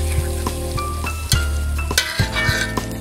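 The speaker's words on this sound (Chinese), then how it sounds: "放入炸好的牛肉。 加辣椒红油翻炒" Fried beef stir-fried in a wok with garlic, ginger and chili red oil, crackling and sizzling close up, while a spatula clinks and scrapes against the metal in uneven strokes.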